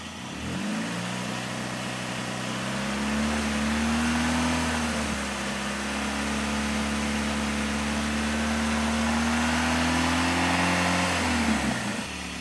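A car engine rises from idle and holds a steady drone at about 2,500 RPM during an exhaust backpressure test, then drops back down near the end. The sound is close and constant, with no talking.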